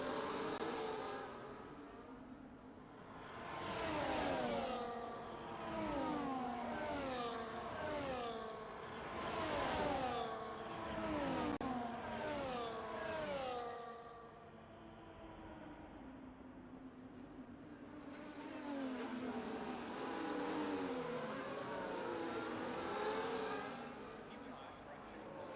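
Formula 1 race car engines in a racing video game at a Spain round, cars repeatedly whining up through gears with rising, falling pitch sweeps, moderately loud, with commentary talking over them.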